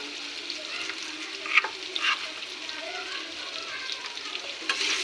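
Vegetables for a niramish sabji, seasoned with salt and turmeric, fry in a pan while being stirred, giving a close, continuous sizzle with occasional scraping stir sounds and no talk.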